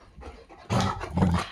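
A dog pants and gives a couple of loud, close vocal bursts in a home setting, with no talk over the sounds.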